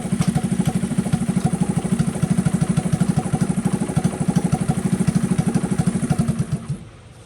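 A hot-wired Honda CT70 motorcycle engine runs at a fast, even idle with rhythmic putting pulses, close and loud, then sputters and dies as it is choked off near the end.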